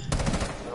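Automatic gunfire in a PS4 shooter game, a rapid burst of loud close shots filling the short moment without any talk over it.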